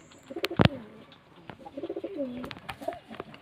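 Pigeons coo in low, repeated throaty calls, with a sharp flutter or snap partway through as a flock takes off, and soft rustling in the background.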